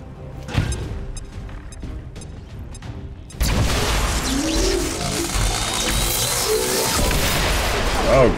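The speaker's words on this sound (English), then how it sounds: "I'm thinking of like lobbing the grenade in" A frag grenade blast in the video game XCOM 2: War of the Chosen erupts midway with a sudden loud broadband burst, followed by a sustained roaring rumble and debris noise, after a quieter stretch of ambient game sound.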